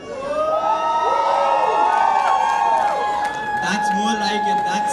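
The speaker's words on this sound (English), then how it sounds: "Let's hear it for everyone in the room. Come on guys, louder." Wedding guests at a sangeet ceremony cheer, whoop and shout loudly as a close, dense crowd, with overlapping voices and talk running throughout.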